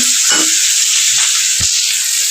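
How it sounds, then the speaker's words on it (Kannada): Chickpeas and onion are tempered in hot oil, and the sizzle is loud, close and hissing throughout, broken by a couple of sharp pops. "ಕಡಲೆ ಉಚ್ಚಿ ಒಗ್ಗರಣೆ ಮಾಡ್ಕೊಳತ್ತೀನಿ ನೋಡ್ರಿ"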